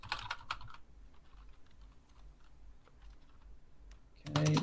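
Computer keyboard clatters in quick runs as C# code is entered, a dense burst at the start, sparse light key taps through the middle, then a loud flurry of typing at the end.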